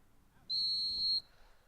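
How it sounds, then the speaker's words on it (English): A referee at a varsity soccer match in Brookline blows a single sharp, steady whistle for a little under a second. It sounds clear and fairly close over faint crowd and field ambience. "Whistle comes, and it'll be a free kick for the Warriors."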